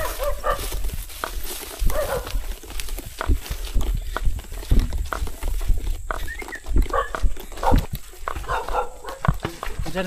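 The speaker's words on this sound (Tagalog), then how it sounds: "Yan, may aso." A dog barks near a house along a long rural road walk, its sharp yaps scattered through a noisy outdoor background of footsteps and handling sounds.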